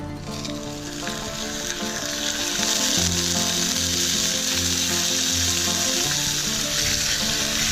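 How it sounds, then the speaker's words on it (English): Pork chops browning in a cast iron Dutch oven give off a loud, continuous sizzle and crackle of frying fat that stays steady and close throughout, with no voices. "put the pork chops in there, brown them up, and then flip them over and brown them on that side"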